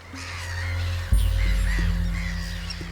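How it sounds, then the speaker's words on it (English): Seabirds crying near the cliffs of Inner Farne, with harsh, crow-like calls repeating at a moderate distance over a steady low rumble of boat engine and wind. "There are a lot of seabirds flying around, their cries growing louder and the air's becoming more pungent."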